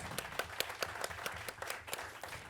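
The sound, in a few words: audience applause at a percussion recital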